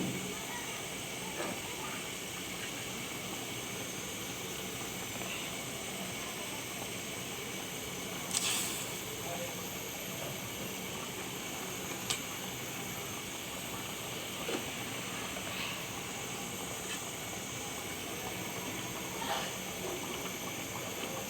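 Pre-fried surma fish simmers in a pan with a steady, faint hissing and bubbling that runs unbroken throughout, with a few soft clinks and pops.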